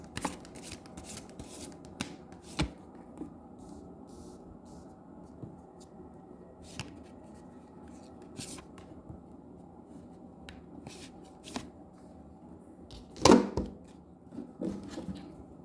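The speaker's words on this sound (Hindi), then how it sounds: "थोड़ा सा मैं इसको शफल कर लेती हूँ and then we will proceed." A deck of tarot cards is shuffled in quiet, intermittent riffles and slides, with a sharper, louder shuffle burst near the end.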